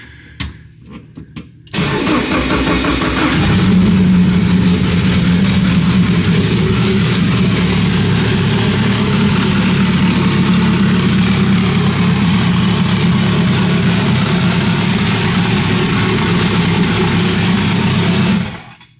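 A turbocharged SRT4-swapped minivan engine cranks and catches, running without its exhaust, then settles into a loud, steady idle with a rough rumbling tone that runs on for a long stretch.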